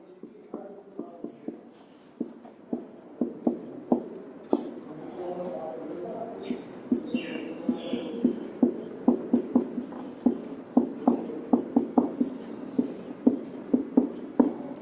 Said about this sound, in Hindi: तो चलो मैं लिख देता हूं, ए को भी लिख देता हूं, बी को भी लिख देता हूं